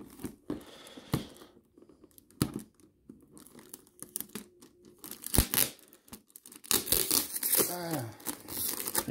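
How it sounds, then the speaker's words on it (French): Sticky tape that is half disintegrating is peeled off packaging in crinkly tearing strips, with irregular rips and crackles between quiet gaps, close by, followed by louder rustling at the end. "Scotch qui se désintègre à moitié."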